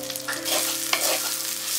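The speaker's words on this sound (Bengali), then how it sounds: "পেঁয়াজটা নাড়াচাড়া করে একটু ভেজে নেব" Chopped onions sizzle steadily in hot oil with whole spices and bay leaves for a chicken curry, with a few spatula stirring strokes scraping through the close, continuous frying.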